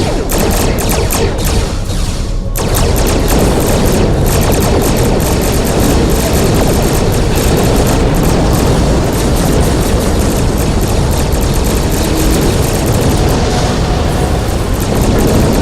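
Starship weapons fire in Star Trek Online as a space battle opens: a dense, loud wall of blasts and engine roar that runs without a break after a brief dip near the start.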